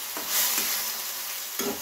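Tomato sizzling in hot oil in a pan as a spiced fish-and-okra curry is cooked, with a steady fry hiss and a few soft stirring scrapes near the start and end.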